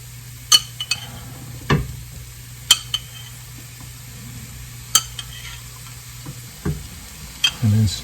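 Chunky mild salsa being stirred into cauliflower rice in a pan: a faint low sizzle broken by scattered sharp clinks and scrapes of a utensil against the pan, a few seconds apart.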